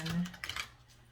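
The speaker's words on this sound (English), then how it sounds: "we're going to go ahead and shuffle the Heart Oracle here so we can get your final decision" Oracle cards being shuffled by hand, a quick series of close, soft papery riffles and taps that fade out within about a second.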